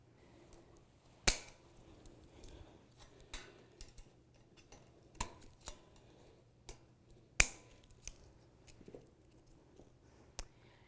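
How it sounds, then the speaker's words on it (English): Scissors snip the loose tails off plastic ties while a Glion Mini Model M1 is unboxed: a few sharp, isolated clicks spaced seconds apart, close and quiet, over faint room hum. "Now you can cut the tails"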